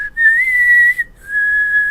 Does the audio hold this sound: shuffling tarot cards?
no